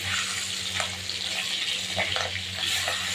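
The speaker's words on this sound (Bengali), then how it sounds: "আমি এই তেলের পরে দিয়ে দেবো মাছগুলো" Hilsa fish pieces coated with salt and turmeric sizzle and crackle steadily in hot oil, alone with a faint low hum underneath.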